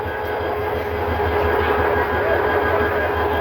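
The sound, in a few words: Titas Commuter train at Bhairab Bazar junction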